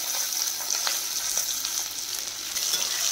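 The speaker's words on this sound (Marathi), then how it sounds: "आता कांदा टाकून घेते।" Onion sizzles in hot oil with crackling mustard seeds and curry leaves over a high flame, giving a steady bright hiss with scattered pops, close and with no voices.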